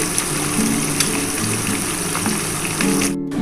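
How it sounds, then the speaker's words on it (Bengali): Constant hissing sizzle of katla fish frying in oil with a low humming drone beneath, ending abruptly. "কাতলা মাছ কিন্তু ভাজা হয়ে গেছে"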